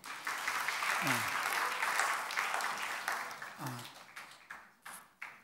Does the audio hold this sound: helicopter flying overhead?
no